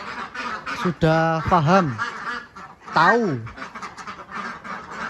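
Ducks on a laying farm give loud, harsh quacks in short bursts, close by, while someone talks over them.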